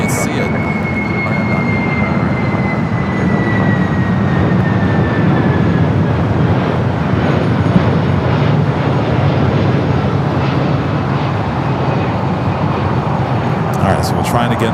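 Airliner going around above the clouds at LAX, a distant, steady jet rumble with a faint descending whine heard continuously, unseen overhead.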